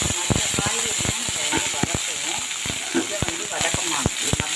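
Chopped capsicum frying in a spoonful of oil in a pan, giving a steady close sizzle with frequent crackling pops and stirring scrapes throughout.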